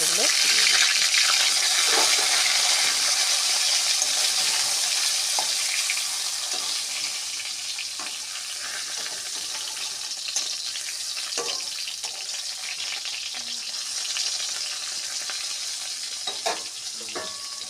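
Eggplant slices frying in oil in a hot pan, a steady broadband sizzle with scattered crackles and pops that eases slightly after the first few seconds and continues without talk.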